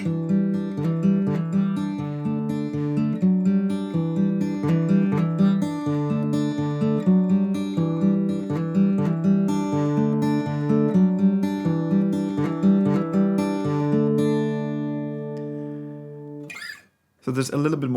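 Strummed acoustic guitar chorus chords of a song ring out in a steady rhythm, full and close, then stop abruptly near the end with a brief noise.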